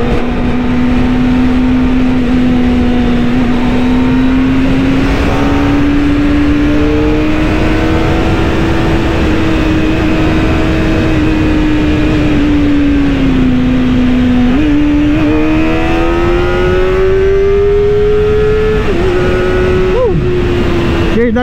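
A Kawasaki ZX25R four-cylinder motorcycle engine screams at very high revs on a ride, loud and continuous, its pitch climbing and dipping with throttle changes over about twenty seconds, with no talking.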